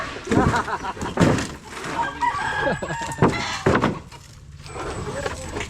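Chickens cluck and a rooster crows nearby in a backyard in Batangas, Philippines, with scattered wooden knocks and faint background voices.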